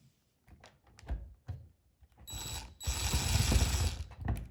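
Mechanical clicking and ratcheting as screws are driven to mount a SnapPower Guidelight nightlight using its installation tool, a broad steady whirring burst after several short taps, close and fairly loud.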